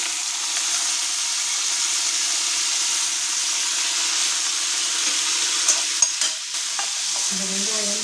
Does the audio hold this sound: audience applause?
no